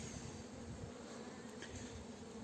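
Honeybees at a hive in a steady, dense buzz of beating wings, a continuous low hum that stays even and fairly quiet throughout, with no voices.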